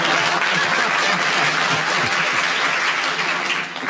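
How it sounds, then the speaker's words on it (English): A studio audience at a 1972 radio panel game gives a dense, loud round of applause, sustained evenly and fading slightly at the end. "You've got the applause now"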